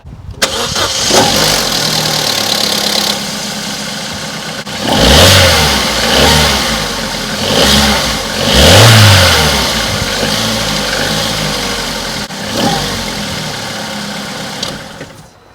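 A Vauxhall Corsa engine with its stock air box starts, idles, then revs up in several swelling bursts before settling, loud and close with no voices.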